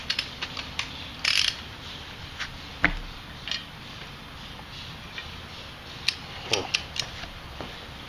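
A ratchet tightening a sway bar nut on a 2011 Scion tC, faint scattered clicks and a few metallic ticks with long quiet gaps, low and close.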